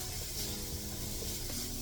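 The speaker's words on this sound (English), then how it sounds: "So we'll say 3 minutes to saute your onions down enough." Onions sautéing in a little oil in a pan, a steady close sizzle with light stirring throughout, no talking.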